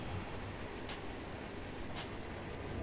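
A train rolls past in a video game, a continuous loud rumble of rail cars with a couple of faint clacks, steady throughout and without talk.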